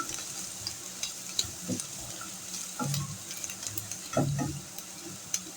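Urad dal stirred and frying with onions in a pan, a soft steady sizzle under intermittent scraping stirs, with a few faint clinks and water-like splashes, close and fairly quiet.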